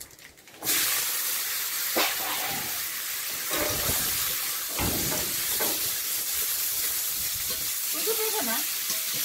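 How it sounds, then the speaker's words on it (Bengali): Papaya and black cumin hitting hot oil in a wok in a rural Sundarban kitchen, bursting into a loud hiss that settles into a steady close sizzle, with occasional stirring scrapes. "ওই তেলের মধ্যে একটু কালো জিরে দেবো, দিয়ে আর পেঁপেটা দিয়ে দেবো।"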